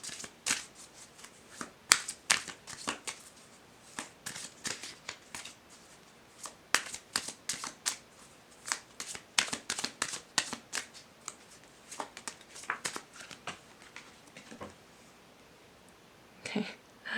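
Oracle cards shuffled by hand in a quiet room, a long run of quick, crisp riffling bursts with short pauses between them, close and fairly soft, with no talking.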